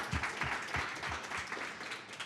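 Audience applause at an evening tech talk event, a steady wash of many hands clapping at close-to-moderate range and holding fairly even for the whole stretch, with no speech over it.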